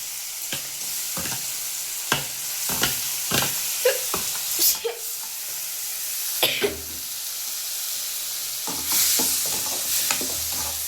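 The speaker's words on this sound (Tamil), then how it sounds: "தக்காளி போட்டு வதக்கிக்கலாம்" Chopped tomatoes sizzle steadily in a hot pan while a utensil scrapes and stirs in irregular bursts, with a louder hiss near the end.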